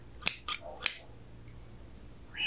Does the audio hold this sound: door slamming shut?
no